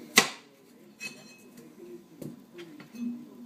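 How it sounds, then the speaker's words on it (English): A knife chops and minces red onion on a cutting board for guacamole: one sharp, loud chop near the start, then a few softer, scattered taps over a low background hum. "this is some potent red onion, so we're just going to mince it up nice and small"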